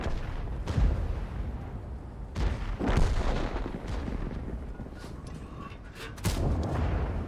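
Tank cannons boom in World of Tanks, several heavy shots and impacts at irregular intervals over a rumbling engine bed, loud and close with no talking.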